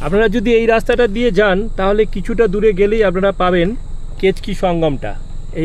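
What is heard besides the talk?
crickets chirping in the forest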